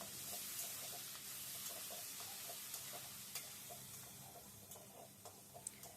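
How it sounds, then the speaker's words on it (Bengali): Rice with chili, ginger, cardamom and bay leaf frying in oil, a faint steady sizzle with soft scraping stirs, no talk. "নেড়ে ছেড়ে একটু ভেজে নিই"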